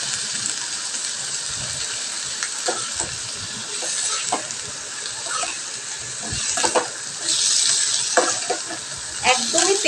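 Chopped onion, capsicum and mixed vegetables fry in oil for a chicken dish, a steady sizzle broken by scraping stirs and spatula knocks, with a brief burst of running water near the end.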